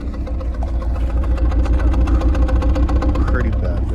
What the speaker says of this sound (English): Pretty bad misfire